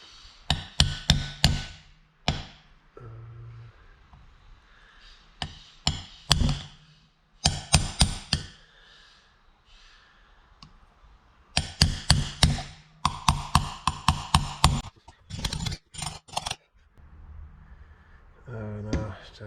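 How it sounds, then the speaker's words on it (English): Sharp hammer blows through a block of wood, driving a grease seal into a trailer wheel hub, in quick clustered bursts, loud and close, separated by quieter stretches with faint handling noises. "I gotta find a piece of wood to hammer that in."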